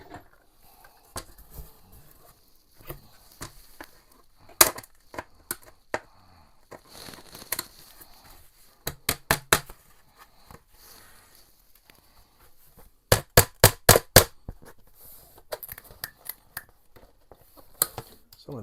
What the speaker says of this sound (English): Let's pull these staples out.